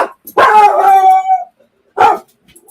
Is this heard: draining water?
no